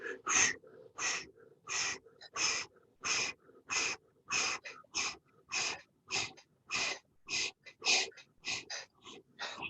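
Forceful rhythmic breathing exercise with about fifteen sharp, evenly spaced breaths pumping from the belly, each a loud airy huff close to the mic, steady and alone.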